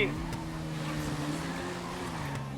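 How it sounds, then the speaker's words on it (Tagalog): A loud motorcycle engine at a drag race drones steadily throughout, with a sustained low mechanical hum that shifts slightly in pitch, and a voice occasionally speaks over it. "Lakas ng motor nyo boy."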